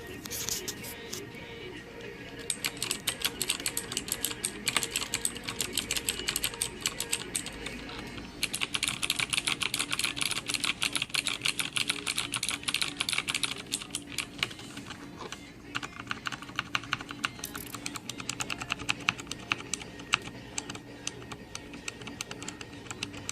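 Rapid clicky keystrokes on an Aula mechanical keyboard, typed in fast bursts with brief pauses, close and crisp over a faint background.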